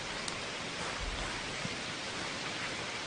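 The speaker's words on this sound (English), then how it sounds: "When I'm under the tree, using this parameter, I hear more snapping, crackling sounds of water hitting branches and stuff." Soft, steady rain falling on tree branches in a cozy game ambience, a faint hiss with occasional small drips and crackles.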